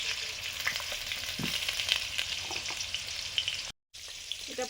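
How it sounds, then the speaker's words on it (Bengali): Potatoes for a meat curry frying in hot oil alongside bay leaf, dried chilli, cumin and chopped onion, a steady close sizzle with a few soft stirring scrapes and a brief cut near the end. "সঙ্গে সঙ্গে মাংসের আলুটাও ভাজছি।"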